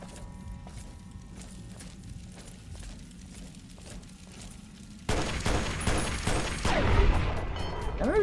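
A gun firing in Fallout: A Tale of Two Wastelands: faint, rapid ticking shots for several seconds, then a louder dense burst of fire with clattering and crackling.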